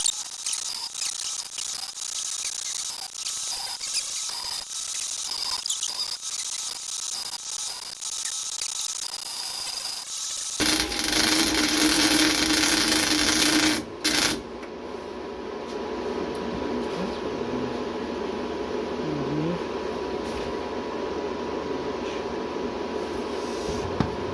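A new R-Tech MIG 180 welder runs a MIG weld, giving a steady crackling buzz with a brief louder burst partway through, close and continuous, with no voices.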